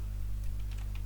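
Keystrokes on a computer keyboard during a coding session, a few quick light taps over a steady low electrical hum, close and fairly faint, with no talking.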